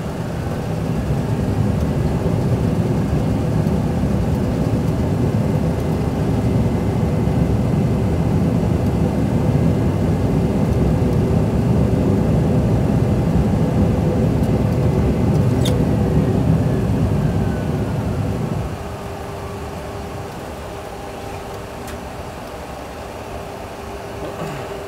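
Boeing 737 full flight simulator engines running in reverse thrust after touchdown, a loud, steady, broadband jet roar that holds for most of the clip and then drops abruptly to a quieter, lower hum, with no talking.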